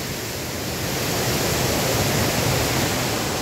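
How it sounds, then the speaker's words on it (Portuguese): A waterfall roars in a broad, steady rush that is loud and unbroken throughout. "agora nós vamos filmar a cachoeira lá em cima"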